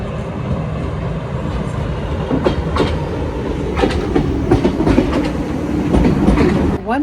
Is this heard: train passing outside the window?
yes